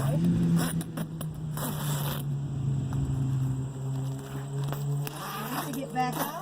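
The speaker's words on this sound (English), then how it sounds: "we have a zipper that can just fold down and let some breeze in for you" Zipper on a Kawasaki Teryx4 cab enclosure being pulled, several scratchy ripping strokes heard close, with a steady engine-like hum and a person talking throughout.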